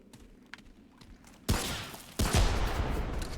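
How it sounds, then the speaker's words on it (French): A bomb weapon detonating in a video game, two heavy booming blasts a moment apart, the second sustaining into a loud rumbling wash after faint clicks. "L'arme bombe, elle explose."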